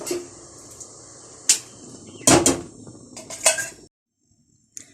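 A pot of melted butter being lifted off a stove, with several sharp metallic clanks and scrapes of pot against grate and utensils, then a sudden near-silence broken by one last faint clink.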